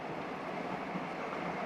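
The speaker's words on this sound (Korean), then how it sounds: "막동이는 보스의 여자와 열차를 탔습니다." A train rides along its rails in a Korean film, a steady muffled rumble from inside the carriage, even and continuous without distinct clacks.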